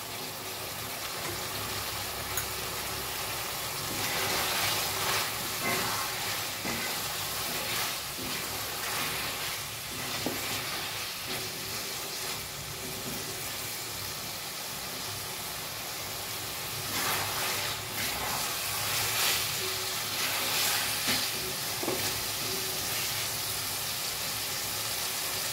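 Green peas frying with potatoes and masala in a pan for a winter potato and pea dum: a long, steady, moderately loud sizzle with recurring stirring swells and scrapes, no talk.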